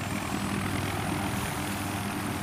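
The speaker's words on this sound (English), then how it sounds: "the helicopter will come down again" Helicopter rotor and engine drone from Battlefield 3, a steady continuous whir with no pauses, fairly loud and alone.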